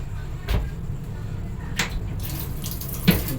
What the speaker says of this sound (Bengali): কল